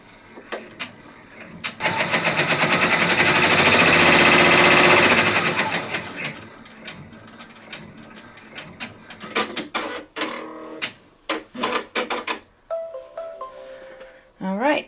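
A Brother embroidery machine stitches a fabric tote with a steady, loud mechanical whir and rapid needle clatter for several seconds, then stops. Clicks, handling noises and brief machine bursts follow.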